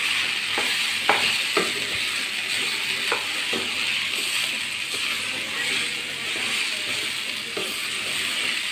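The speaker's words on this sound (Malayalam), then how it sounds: "നല്ലോണം മിക്സ് ചെയ്യുക ഇളക്കി കൊടുക്കുക" A beef mixture with turmeric and pepper is stirred and sizzles in a non-stick pan, a constant frying hiss broken by a few light scraping knocks of the spoon.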